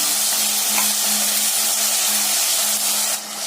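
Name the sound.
ground tomatoes sautéing in oil for biryani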